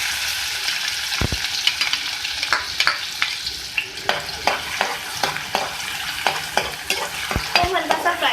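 Chopped onions fry lightly in hot oil, giving a steady loud sizzle broken by frequent sharp scrapes and knocks from stirring.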